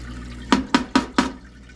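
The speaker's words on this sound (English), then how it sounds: "it does splash when you do the parts" Solvent in a JEGS 5 gallon parts washer splashing as parts are worked in it, four quick evenly spaced liquid slaps, close and fairly loud, with quiet between them and no talk.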